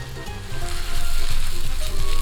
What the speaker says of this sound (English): now it's time to add our shrimps